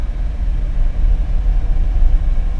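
Restored Lamborghini Miura S out on a road test, its engine a steady deep rumble heard from inside the car, low and continuous with no voices over it.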